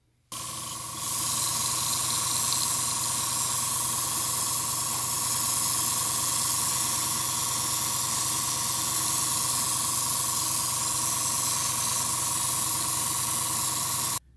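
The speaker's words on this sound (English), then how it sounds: "Now I'm going to do a top coat of Vallejo Gunmetal" Steady spray of Vallejo Gunmetal 71072 top coat, likely from an airbrush, coating a Bandai Sprukits Halo Master Chief model kit; a continuous hiss with a faint tone runs alone for about thirteen seconds after a brief quiet start.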